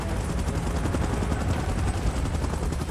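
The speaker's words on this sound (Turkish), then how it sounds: "Helikopter kalkışı hazır." Helicopter in the PUBG Mobile video game, a loud, steady rotor thrum with dense rhythmic chopping filling the whole stretch, mixed with busy game noise and no talking.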